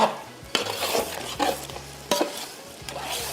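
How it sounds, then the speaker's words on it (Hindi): Rice for Sindhi yakhni pulao is stirred in a pot, a spoon scraping and knocking against the metal in several firm strokes, with a faint sizzle underneath and no voices. "इसको मिक्स किया एक दफ़ा अच्छी तरीके से।"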